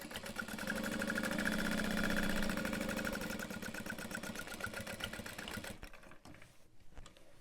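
A sewing machine top stitches a tote bag in a fast, even mechanical whirr that runs steadily for several seconds and then slows and stops near the end, with no talking.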